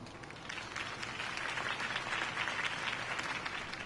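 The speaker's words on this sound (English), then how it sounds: "If only Mr. Wayne, my campaign's largest backer, could have heard that applause" A crowd applauds after a campaign speech in the Batman Telltale video game, a dense, even wash of clapping that holds steady for a few seconds at moderate volume.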